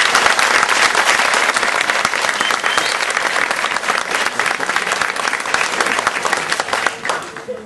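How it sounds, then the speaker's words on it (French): At a festival gathering in Benin, an audience gives a guitarist sustained, loud applause of dense clapping that tapers off slightly near the end, with some voices mixed in. "Et je crois que vous devez l'applaudir."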